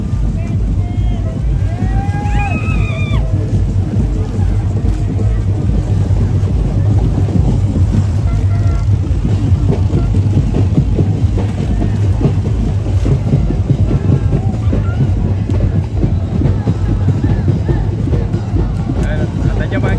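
Boat motors droning on the river during the San Juan Bautista Libad festival procession in Calumpit, Bulacan, a steady loud hum with wind buffeting and distant crowd voices, and a brief whistle early on.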